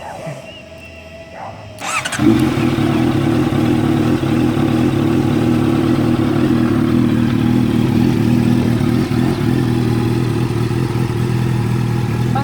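A Honda CBR650F motorcycle with an Arrow full-system exhaust fires up after a brief clatter, then holds a loud, steady four-cylinder drone close by with slight revving.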